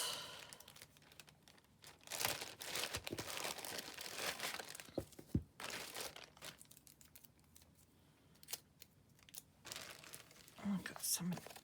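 Paper envelopes in an Oriental style, bought secondhand, crinkle and rustle as they are handled, with bursts of crumpling and soft tearing-like scrapes over several seconds and a voice faintly present beneath.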